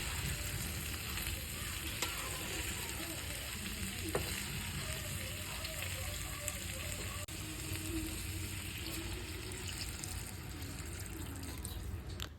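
Tiger prawns sautéing in a pan with a light curry base, a continuous close sizzle and spatter running steadily throughout, with faint stirring scrapes and no voices.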